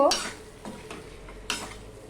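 Fried pointed gourd is sautéed with spices in a pan for a vegetarian curry with papaya and chana dal. Several close scraping strokes cut through a steady, soft sizzle.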